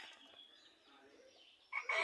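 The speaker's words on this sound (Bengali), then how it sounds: "এটাকে ঝুঁটি শালিক বলা হয়" A crested myna calls outdoors with faint, scattered chirps at first, followed by a sudden louder burst of calling near the end.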